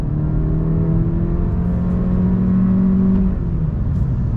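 A 2021 Honda Accord Special Edition sedan accelerates hard on throttle for a passing run, its engine droning steadily louder with a rising tone, heard from inside the cabin and with no one talking.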